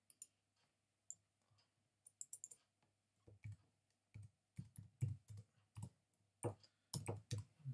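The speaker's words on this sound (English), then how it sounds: "Let's just type that in." Close, quiet typing on a computer keyboard, scattered clicks at first and then denser bursts of keystrokes in uneven clusters.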